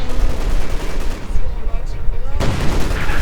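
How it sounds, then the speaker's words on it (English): A fragmentation bombing run in the World War II strategy game Company of Heroes 2 hits field guns with dense, continuous rumbling explosions. The blasts stay loud throughout and sit under low commentary. "fragmentation bombing run on the field guns"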